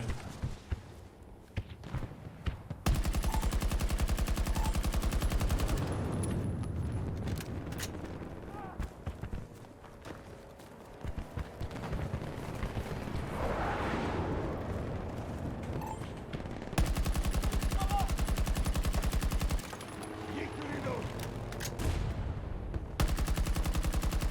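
Battlefield 2042 combat audio with sustained rattling gunfire and bursts that come and go over about twenty seconds, near and loud in stretches, with mechanical clatter and someone talking in Turkish throughout.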